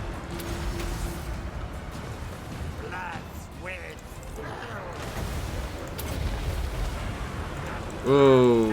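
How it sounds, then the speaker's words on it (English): Rattling gunfire from Skaven units in a Total War: Warhammer battle, a dense ongoing crackle under layered battle noise and voices, ending in a louder burst. "what's the rattling gunfire there?"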